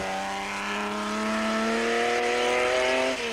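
A rally car engine from the 1991 Tongaland rally hums loud and close, holding a steady tone with a slowly rising pitch as the car creeps along at low speed, with no voices over it.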